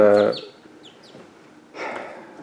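Plymouth Barred Rock hens cluck close by in a backyard, a short burst of clucks at the start and another after a pause, with faint chirps between.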